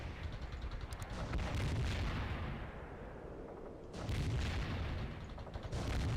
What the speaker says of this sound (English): Get some more artillery in here